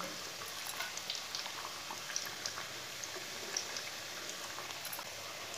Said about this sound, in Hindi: इसे फुल आंच पे बिल्कुल भी फ्राई नहीं करना, इसे बिल्कुल स्लो आंच पे करना है।